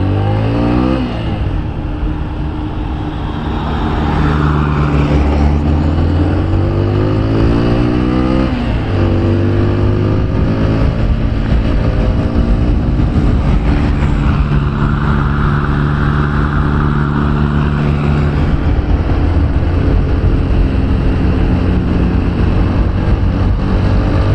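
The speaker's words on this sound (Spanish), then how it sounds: "Espero que el micrófono sea lo suficientemente sensible para que capte el sonido del motor" A TVS Apache 160 4V motorcycle engine runs steadily while being ridden, a loud close rumble that shifts pitch with throttle changes and gears over about 24 seconds, with no talk.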